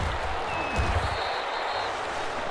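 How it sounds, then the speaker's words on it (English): Stadium crowd applauding the defense in the Madden NFL 21 football video game, a steady wash of clapping and cheering that stays even throughout. "How about some applause for the defense there?"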